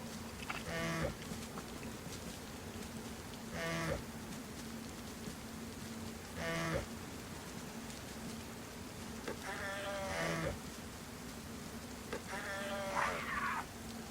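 Several short bleating goat calls from the video game DayZ repeat every few seconds over a steady low hum, moderately close, with no talking.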